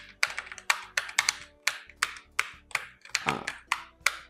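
Keys clack on a SteelSeries Apex Pro TKL keyboard, about a dozen crisp, separate key presses in an uneven typing rhythm, close and clear with no voices.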